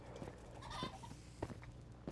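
Chickens in a Minecraft chicken farm give a few faint, short clucks over a low background hum.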